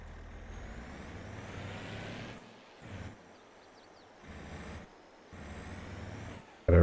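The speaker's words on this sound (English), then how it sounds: "We'll put the truck away, so we might as well open the gate." A truck in a farming simulator game, running with a low engine rumble that drops out and returns in short stretches, then ending with a sharp, loud hiss of air brakes as it parks.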